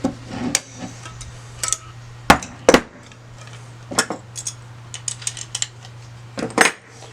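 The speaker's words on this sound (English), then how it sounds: "So now that's riveted on that side." Sharp metallic clicks and taps come from rivets being set on a sensor bracket for a Sonex aircraft. The isolated snaps are spaced irregularly, close by, over a faint steady hum.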